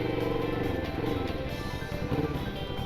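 Traffic on a road in Don Wai, Thailand, with a truck approaching and passing: a steady, loud engine drone and road rumble that holds throughout without a clear peak.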